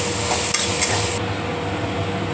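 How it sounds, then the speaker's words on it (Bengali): Small soybean chunks fry in a pan with a steady, close sizzle, broken by a couple of sharp scraping stirs near the start before the frying hiss settles in alone. "সেগুলোকে দিয়ে ভালো করে একটু ভাজা ভাজা করে নেব"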